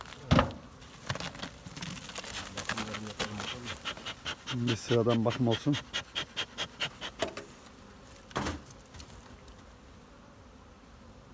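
Honeybees swarm and buzz around hives at a pine-honey apiary near Antalya, a steady insect drone beneath someone talking up close, with sharp clicks and handling noises in between.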